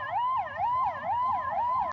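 Emergency siren of fire, police and ambulance crews arriving at a simulated plane crash near Ruse, a loud close wailing tone sweeping up and down in a steady repeating cycle, with a low vehicle rumble beneath.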